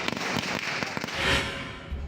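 Confiscated illegal firecrackers detonating in an open field during a police ceremonial disposal, a rapid crackling string of sharp bangs at mid distance that swells into a denser burst before tapering off.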